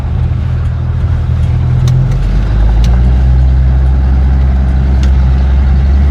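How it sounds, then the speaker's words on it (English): A Mercury Comet's engine drones steadily at close range, its low rumble shifting in pitch as the car drives along with road noise on new suspension and brakes. "going for the first drive with the new suspension, new brakes."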